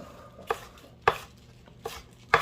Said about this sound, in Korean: 이렇게 하면은 대파가 다 썰린단 말이지